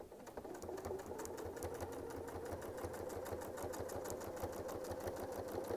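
A sewing machine runs steadily as a quilting template guides the stitching on a Westalee Yin and Yang set, a fast even needle rhythm that goes on without a break, close and moderate in level.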